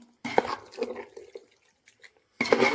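Jackfruit and chicken biryani being stirred in a pot, with soft scraping and wet, clinking spoon-against-pot sounds in short bursts, pausing before a louder stretch of stirring.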